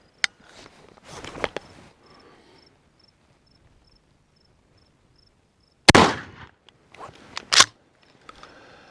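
A shotgun fires Hornady Critical Defense double-aught buckshot, eight pellets at 1,600 feet per second, into a ballistic gel torso target outdoors. One sharp, loud blast with a ringing tail stands out among lighter clicks and clacks, with faint insect chirps behind.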